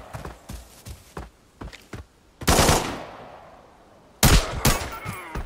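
Video game gunfire in Arena Breakout: a few sharp single shots, then two loud, dense bursts of automatic fire with echoing tails, close and loud and heard alone.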